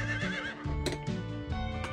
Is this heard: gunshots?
no